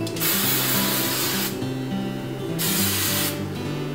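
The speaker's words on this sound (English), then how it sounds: "So now I'm going to use my hairspray and spray all of my hair." Hairspray from an aerosol can is sprayed over hair in three long, close hissing bursts separated by brief pauses.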